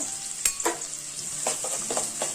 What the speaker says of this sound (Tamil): ஃபர்ஸ்ட் வெங்காயம் கொஞ்சம் லைட்டா வதக்கிடலாம்